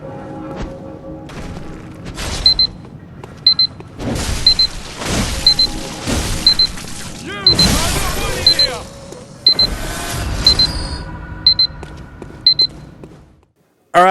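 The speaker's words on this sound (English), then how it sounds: "You heard the alarm go off." Alarm clock going off during a Bloodborne game session, a short electronic beep repeating about once a second over loud game sounds of thuds, booms and whooshing effects, ending abruptly.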